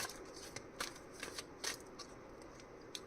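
A deck of tarot cards is shuffled close by, quiet papery riffles and flicks coming in short bursts. No one speaks over the soft slapping of the cards.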